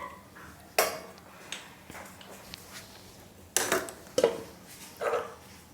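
Mango laddu mixture stirred in a pan over a medium flame, heard as sparse, fairly quiet scrapes and clinks of the spoon against the metal with short pauses between strokes.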